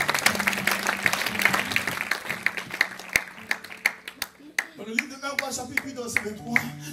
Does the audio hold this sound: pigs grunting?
no